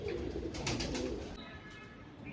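Madras Giribaz pigeons coo softly in a low, murmuring rhythm, with some higher rustling noise over the first second.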